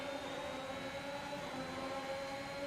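Race car engines in the F1 2021 video game drone steadily at a race start, a continuous loud tonal whine with no talk over it.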